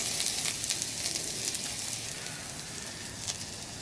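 Shallot sautés in hot olive oil in a metal canteen cup, giving a steady close hiss and crackle that runs without a break, with no talking.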